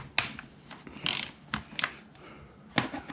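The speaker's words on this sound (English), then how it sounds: "unscrew these 4 bolts like this" An Allen key or ratchet turns the air filter bolts on a Yamaha XV950 Bolt motorcycle, giving sparse, quiet clicks and short ratcheting bursts up close with no talk.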